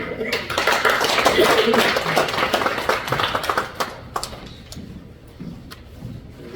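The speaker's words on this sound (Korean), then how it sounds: "다시 한번 감사의 박수 한번 보내드리겠습니다" An audience at a church redevelopment seminar claps, dense and loud at first, then thinning into scattered individual claps as it dies away, with talk overlapping near the end.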